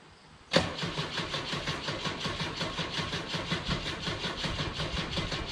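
An Opel GT fitted with a Weber 32/36 carburetor catches abruptly after a quiet pause, then settles into a steady, pulsing idle heard nearby, with no talking.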